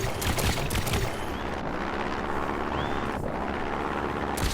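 Drone built in Trailmakers flying in the game, a steady loud whirring rotor drone with buzzing engine noise that holds throughout with small shifts in pitch, with no talking.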